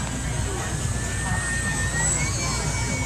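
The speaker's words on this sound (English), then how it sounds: "we're going to hear the distinctive noise from the motors" Electric model airplanes fly at a Canada Day airshow, their motors giving a steady whine that shifts slowly in pitch over continuous broad noise, with a crowd or commentary faintly underneath.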